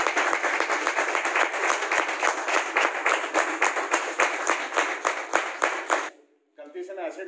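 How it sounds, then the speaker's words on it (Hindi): Audience clapping in a hall during a talk about multi-level marketing, a steady rhythmic wave of many hands for about six seconds that stops abruptly, followed by a brief pause and faint sound. "एक बारी ताली बजा दीजिए"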